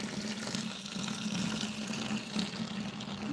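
Hot water poured from a tea kettle into a container makes a steady, close trickling and splashing stream with no voices over it.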